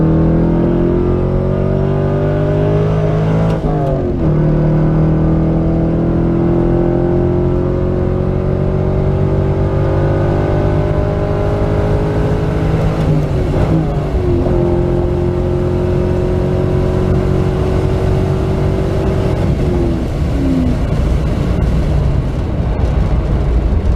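A C5 Z06 Corvette engine revs hard and pulls through the gears, loud and close, with rising pitch sweeps broken by brief dips at each shift.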